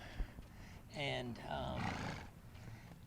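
A Tennessee Walking Horse gives a loud, drawn-out whinny that shakes for about a second, followed by softer snorting and faint background noise.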